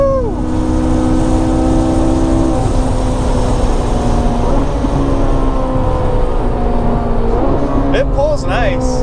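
A Ferrari 458 Italia V8 engine accelerates hard, its loud, steady roar climbing through rising harmonics across several gear pulls, heard from inside the car, with occupants speaking over it.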